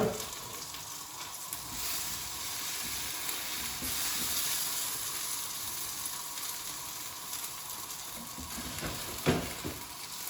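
Osaka-style okonomiyaki sizzles steadily on a hot griddle after being flipped, a continuous loud frying hiss with a brief sharper flare near the end and no talking.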